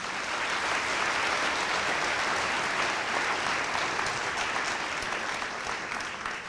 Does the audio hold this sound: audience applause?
yes